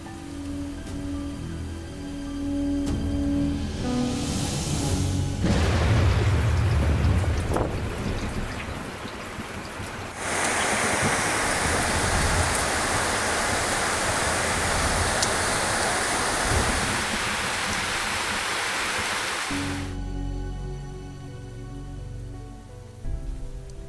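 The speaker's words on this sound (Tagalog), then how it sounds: "Alam mo, non-stop yung ulan, no? Simula pa kagabi." Heavy, non-stop rain pouring down, a dense roaring hiss that swells and intensifies midway, loud and continuous with no voices.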